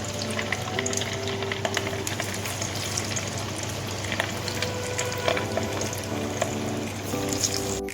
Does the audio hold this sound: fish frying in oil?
yes